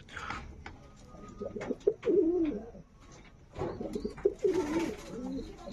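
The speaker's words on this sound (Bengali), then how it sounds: "আমার ঘরের কিছু কবুতর আপনাদেরকে শখ করালাম" Pigeons cooing softly nearby in low, throaty bursts, with quiet rustling and gaps between the calls.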